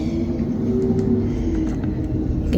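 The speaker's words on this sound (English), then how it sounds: "You can hear the garbage truck" A garbage truck passing outside a home produces a steady, muffled low engine rumble that stays fairly loud and even throughout.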